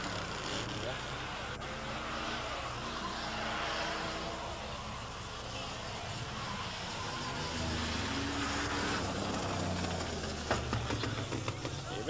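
Stock cars racing at the Laval autodrome in the 1980s, engines droning and revving at a distance under a French announcer's commentary, with a few sharper bursts near the end.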